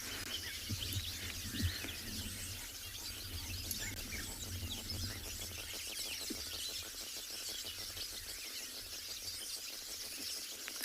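Birds call at a waterside in South Africa over a steady hiss and low hum, with faint chirps scattered across the soundscape.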